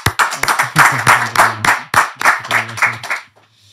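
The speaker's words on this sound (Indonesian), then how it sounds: "Tepuk tangan buat Alwi Mukhtar" Rhythmic hand clapping from an audience at a talk show, a quick run of sharp claps close by that stops abruptly, with a faint tone lingering after.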